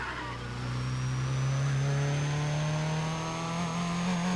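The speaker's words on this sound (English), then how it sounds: "The engine is making a sound not unlike my feelings towards this game." A race car engine in the video game Need for Speed ProStreet revs steadily at high pitch, a continuous loud droning whine that climbs slightly over several seconds with no speech.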